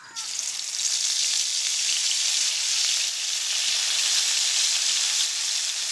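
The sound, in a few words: cumin paste sizzling in hot oil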